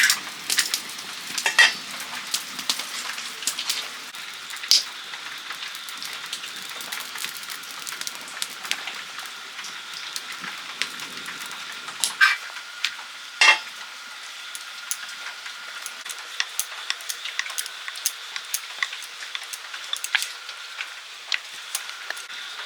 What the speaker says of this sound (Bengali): রুটি ভাজা চলছে এখনো